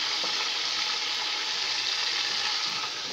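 Chopped onions sizzle and fry in hot oil in a pan, a steady, close crackling hiss that runs without a break.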